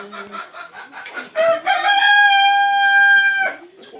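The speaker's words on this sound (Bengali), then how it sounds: "এই যে গলাশিলা মোরগ আছে" A Golashila tiger rooster crows once, a loud, close drawn-out call, with hens clucking in short bursts before it and softly after.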